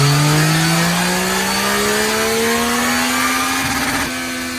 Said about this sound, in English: this is the first dyno run on the completely stock R9